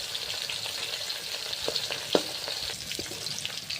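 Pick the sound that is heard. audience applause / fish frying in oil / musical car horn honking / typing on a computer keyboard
fish frying in oil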